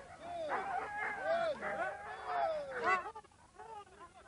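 Husky sled dogs bark and yip in an excited chorus at the start line of a race in Thetford in the early 1990s, held back and straining, with overlapping howling barks throughout, fairly near.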